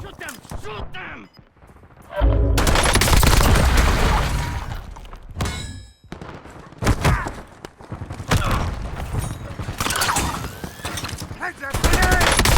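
Rapid AK-74 assault rifle fire from Black Ops 6, loud bursts of automatic shots in close succession with short pauses, mixed with game effects and character voices.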